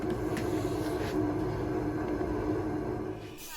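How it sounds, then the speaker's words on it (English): A steady mechanical drone of a heater running, a constant broadband hum that holds evenly throughout and eases off slightly at the very end. "heater's on the go, just trying to warm the place up a bit"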